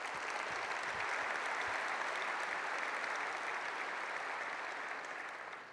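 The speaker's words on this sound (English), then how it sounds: "Let's give them another round of applause." An audience at a technology conference general session applauds steadily, a dense wash of clapping that holds even before fading slightly at the end.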